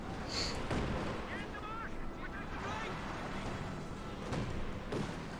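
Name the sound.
gunfire and artillery in video game Company of Heroes 2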